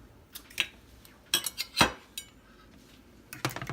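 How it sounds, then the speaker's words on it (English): A fork clinks and taps against a pan or dish while eggs are mixed into olive oil, giving scattered sharp metallic knocks separated by quiet pauses, close and moderately loud, with no talk. "use a fork and go ahead and mix them up"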